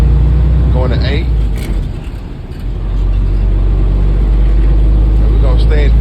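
A vehicle with a 10-speed manual transmission hums along, its engine dipping briefly in a gear change before the low drone resumes steadily. Someone talks over it.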